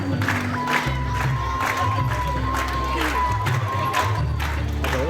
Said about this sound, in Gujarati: આપણે સૌ તાળીઓના ગડગડાટ શરૂ રાખીશું અને આ પળને વધાવીશું